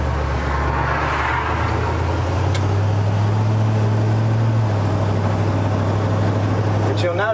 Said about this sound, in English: maybe idle a little high